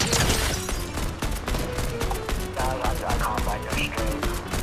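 Rapid gunfire from a Fortnite match crackles in dense bursts throughout, loud and constant, with game effects layered in and speech faint underneath.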